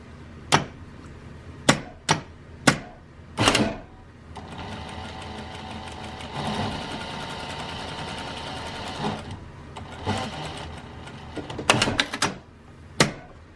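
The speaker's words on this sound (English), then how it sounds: "You're going to sew like 1/2 inch right there, 1/2 inch right on it." A sewing machine runs in bursts to stitch a welt seam, with sharp clicks and clunks at the start and end framing a steady rapid whirring hum, close and alone without talk.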